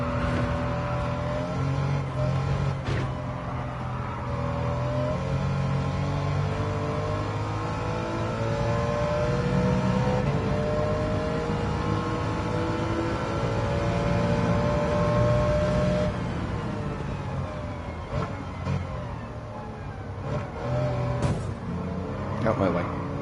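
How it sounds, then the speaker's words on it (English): Race cars in Gran Turismo 7 drone and rev continuously, engine notes rising and falling with gear changes as cars accelerate and pass, with a voice talking over parts of it. "Yeah, I love the engine noises."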